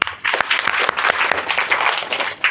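An audience at a spiritual talk by a swami breaks into loud, close, steady applause with many overlapping claps throughout.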